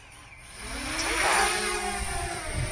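A drone's motors start and spin up after a button press outdoors, giving a rising whirring drone with a steady high whine that swells and then holds, fairly faint and heard alone.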